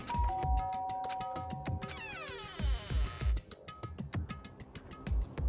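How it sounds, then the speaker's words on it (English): A chiming electronic doorbell melody in Danganronpa: Trigger Happy Havoc rings out over busy game music with steady thumping beats, loud and close. "press the doorbell"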